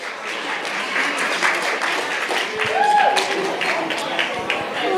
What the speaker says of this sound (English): one more big round of applause for Caryn's parents, Marlene and Gary Zeitlin